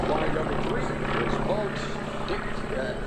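North American T-28 warbird propeller aircraft flying at an airshow, a steady droning engine roar underneath continuous announcer-style talk over a loudspeaker.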